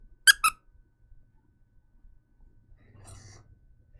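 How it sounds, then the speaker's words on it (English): A purple pigeon plush toy gives two quick, sharp squeaks close up, followed by near silence with faint breathy whispering and rustling. "His name is Peppy, and he's a freaking pigeon. And this one squeaks."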